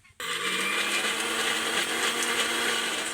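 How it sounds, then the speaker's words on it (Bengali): A mixer grinder with its lid on blends chutney ingredients, including lemon juice, into a paste. After a brief quiet moment it starts abruptly into a loud, steady high-pitched whir that holds to the end. "ঢাকা দিয়ে মিক্সিতে পেস্ট করে নেব সব কিছু একসাথে"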